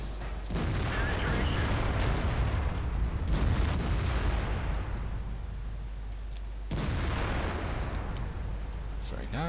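Tank guns firing in the World of Tanks game on the Sand River, Siegfried or Murova maps: three heavy booming shots spaced a few seconds apart, each with a long rumbling decay over constant low engine drone.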